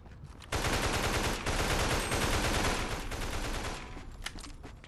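Sustained rapid automatic weapon fire from the Mega Zombie shooter on PS4 rattles on loud and close for several seconds, a steady stream of shots that tapers near the end.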